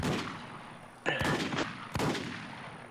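Gunfire in the survival shooter Infestation: Survivor Stories: two sharp shots about a second apart over steady game ambience, fairly close and loud.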